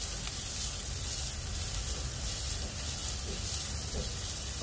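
Finely chopped cabbage and mixed vegetables sautéing in a hot pan for a vegetable soup, giving a steady, close, even sizzle that holds with no talk over it.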